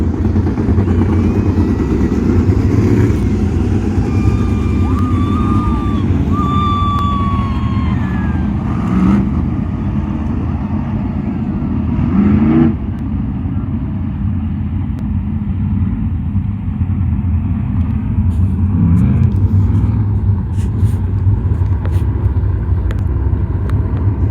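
A race car circles the Arizona Speedway track, its engine rumbling loudly and steadily before rising and fading as it passes, with crowd and track ambience underneath.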